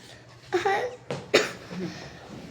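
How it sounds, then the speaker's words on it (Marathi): Two or three short, harsh coughs come in quick bursts over a quiet background, close to the microphone. "कॉफ आहे हो ना खोकला आहे"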